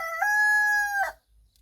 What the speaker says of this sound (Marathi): कोंबडा बघा कसा बाग देतोय